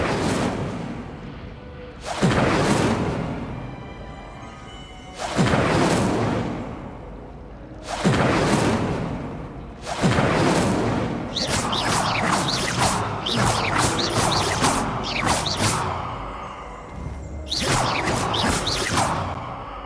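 Repeated Incendio fire spells cast in Hogwarts Legacy, each a loud whooshing burst of flame, about six to eight in an irregular sequence, with later bursts coming in rapid clusters and no speech.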